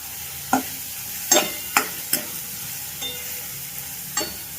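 Spice paste cooking in a pan over a low gas flame, a faint steady sizzle broken by several sharp clinks and scrapes of a spoon stirring, close and quiet.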